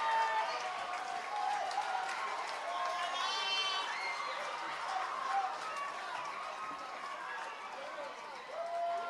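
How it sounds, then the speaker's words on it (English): Crowd at a high school homecoming football game applauding the homecoming court, a steady wash of clapping and cheering heard from a distance, with a voice over a loudspeaker. "let's give our 2020 homecoming court and our queen, Aline Cole, a big round of applause"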